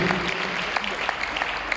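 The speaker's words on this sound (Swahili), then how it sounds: "tupigie Bwana makofi mazuri." Brief, scattered clapping from a gathered audience at a memorial ceremony, a handful of sharp claps standing out over a murmur of voices.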